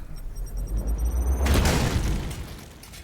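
A grenade detonates in the tactical video game Warhammer 40,000: Chaos Gate, a loud, deep boom rising halfway through and rolling out into a long, rumbling tail against low game ambience.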